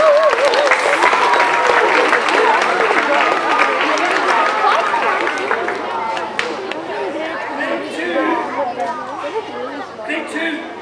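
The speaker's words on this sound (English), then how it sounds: "Give yourselves a really big round of applause!" Schoolchildren in a school assembly hall clap loudly together, a dense burst of applause mixed with excited chatter and shouts that slowly thins toward the end.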